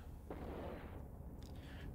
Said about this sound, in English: You saw even there was some explosions.